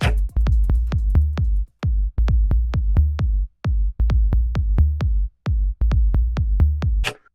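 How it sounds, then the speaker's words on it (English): Punchy kick drum and tom hits in a steady groove, dry and close, with brief gaps between phrases and no other instruments. "we're going to listen to the kick drum and the tom that I have"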